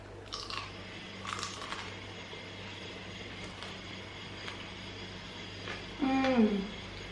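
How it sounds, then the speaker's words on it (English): Crunchy battered cauliflower steak, gluten-free, bitten and chewed close to the mic in a short loud burst of crisp crunching near the end, after quiet background with a few faint earlier bites. "I'm going to try this really lovely crunchy bit."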